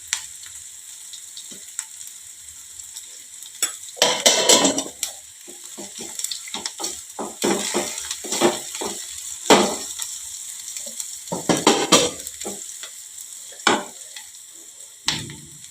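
Cumin seeds sizzle and crackle in hot oil with a steady frying hiss, broken by frequent scraping stirs of a spoon in the pan, loud and close, with no voices.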